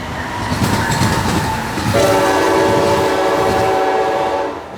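A loud train rumbles past close by, its horn blaring a long sustained tone over the clatter of the cars.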